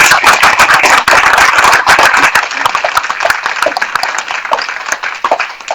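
A political rally crowd applauds loudly and close by, with a dense burst of clapping that has sharp individual claps standing out. It gradually thins and softens toward the end.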